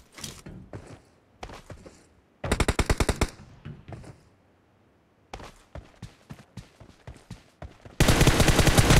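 Gunfire in the mobile battle game PUBG Mobile, a 1-vs-1 team deathmatch: sharp single shots and short volleys, then dense rapid automatic bursts, loud and close with gaps of near silence between.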